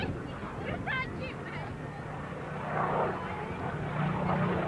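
A vintage 1944 Supermarine-built aircraft flies at the 1986 RAF Halton airshow, its engine a steady distant drone that swells slightly toward the end beneath crowd babble and background voices.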